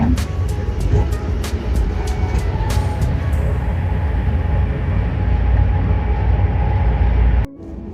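Steady loud rumble inside a moving train in Zurich, Switzerland, with faint rhythmic clicks early on and an abrupt drop in noise near the end.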